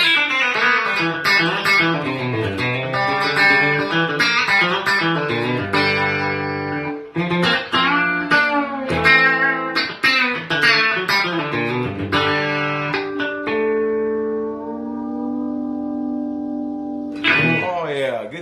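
Electric guitar run through a Lucky Dog compressor into a VS-22 amp plays quick country-style licks and bends with clean, compressed tone, finishing on a long sustained note before a final pluck, close and loud.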